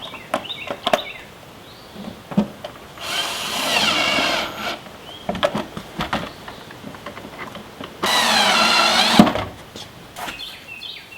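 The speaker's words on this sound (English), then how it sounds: "Now I'll just go ahead and screw this down." Power drill driving screws to fasten plastic fender flare molding, heard as two whirring bursts of about two seconds each, set between clicks, taps and handling noises at close range.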